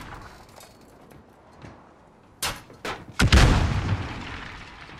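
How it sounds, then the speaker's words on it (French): Stun grenade thrown and going off in the Call of Duty: Modern Warfare video game: a few sharp clicks and knocks, then a loud, close blast that fades out in a rumbling tail. "J'envoie une grenade paralysante."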